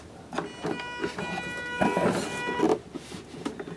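An Actuonix linear actuator raises the canopy on a Skymaster 1/6.25-scale F-18F model jet: a brief, close electric motor whir with a steady tonal hum, rising and falling over a few seconds among light mechanical clicks.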